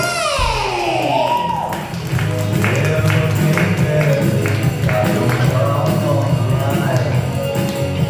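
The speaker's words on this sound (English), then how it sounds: "Put your hands together and start clapping it up for Steve K!" A comedy open-mic audience claps and cheers to welcome a comedian, steady dense applause carrying through with a swelling opening, loud and close, with some music-like tones underneath.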